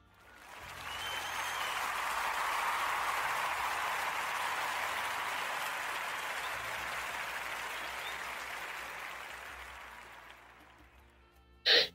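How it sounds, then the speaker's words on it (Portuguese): A studio audience gives a big round of applause on a radio podcast show, dense steady clapping that swells quickly, holds for about ten seconds, then tapers before a short sharp noise at the end. "Eu quero pedir a toda a gente uma enorme salva de palmas, por favor."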